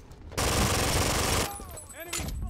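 Dense gunfire from a firefight in the video game BRINK, a loud continuous burst of rapid shots lasting about a second, then quieter combat noise and whooshing effects as someone talks.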